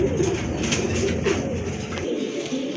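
Pigeons kept for sale in a home loft, including a khaira pair, coo continuously in overlapping, layered calls. The sound is close, steady and fairly loud, with no talking.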